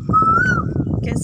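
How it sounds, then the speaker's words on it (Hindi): A single rising whistled call of an Asian koel in a hill farming village, brief and clear over a person's talking. "कोयल की आवाज है"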